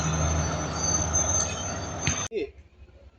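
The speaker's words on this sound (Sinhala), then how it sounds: "ස්ලෝ ට්‍රේන් එකක් ආවා." A slow passenger train rolls past on the line, a loud, steady rumble with a high whine of rail and wheels that cuts off abruptly after about two seconds, leaving quieter ambient noise.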